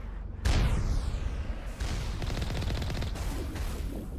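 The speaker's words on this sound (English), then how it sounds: "that's a missile" Missile in the video game Mass Effect Legendary Edition, a sudden loud whooshing blast followed by a sustained roar of explosions and rapid gunfire, close and dense throughout.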